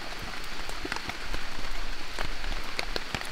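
Heavy rain falls in the Amazon rainforest onto a roof and a water-filled hammock, giving close, dense patter with sharp individual drop hits scattered across a steady wet hiss.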